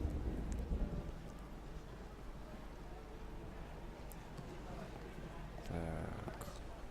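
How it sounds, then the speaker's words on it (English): Steady rain hisses through a storm in the Blues and Bullets game, with a low rumble of thunder near the start and another swell toward the end. "You think it's going to be a quiet day and suddenly the storm hits you"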